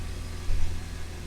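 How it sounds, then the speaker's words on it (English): Hyundai Santa Fe engine held at around 2000 rpm, a steady low hum with a slight swell in the middle, close by and alone with no voices. "I'm revving the engine at least 2000 rpm"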